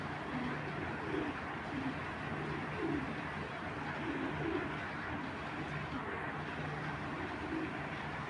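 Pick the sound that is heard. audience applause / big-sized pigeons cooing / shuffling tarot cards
big-sized pigeons cooing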